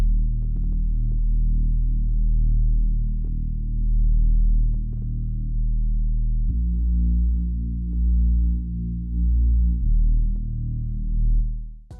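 A sustained synth bass from a pop song intro, holding low smooth notes that shift pitch a couple of times, loud and alone with no voices.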